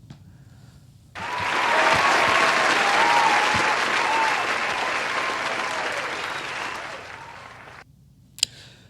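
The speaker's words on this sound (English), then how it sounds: "Let me give a round of applause for Michelle Obama." Loud audience applause breaks out suddenly and holds steady for several seconds before cutting off, with a faint voice cheering through it and a single sharp clap near the end, at a comedy talk show.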